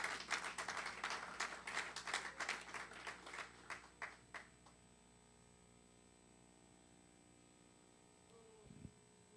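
A church congregation breaks into applause, a dense burst of many hands clapping that gradually thins out and fades to near silence by the midpoint.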